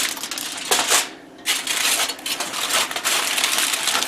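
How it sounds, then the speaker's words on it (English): Scissors cut through heavy-duty tin foil used to line incubator trays, making repeated close crinkling and crunching bursts with a brief pause partway through. "don't panic when you see me cutting tin foil with scissors."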